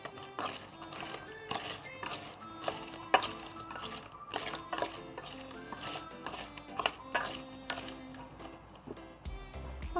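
Raw prawns with grated black pepper being mixed by hand in a bowl, giving irregular soft wet clicks and knocks of shell against the bowl, close and fairly quiet, with no talk.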